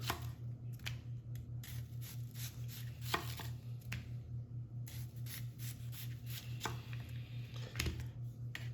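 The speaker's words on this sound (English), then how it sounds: "I just cut them nice and fine, and actually I slice them nice and fine" A knife slices yellow onions finely on a cutting board, a quick, steady series of close, crisp chops repeating without pause, soft and quiet over a faint background hum.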